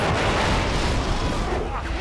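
Bomber attack on a base surrounded by alien bugs on the planet Roku San in Starship Troopers 3, heard as loud, continuous rumbling explosions and blasts filling the whole moment, with a voice partly mixed in.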